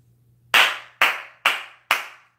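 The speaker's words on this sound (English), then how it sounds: "Jason Garrett clap" Four sharp, loud hand claps, evenly spaced about half a second apart, sounding alone against a faint low hum after a football fan's sign-off about Jason Garrett.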